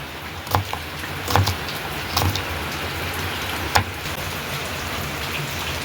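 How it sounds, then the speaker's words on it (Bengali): Heavy rain pours down in a steady dense hiss, with a few louder drips and knocks landing on a nearby surface. "দেখলে একদম ঝমঝমিয়ে বৃষ্টি শুরু হয়েছে"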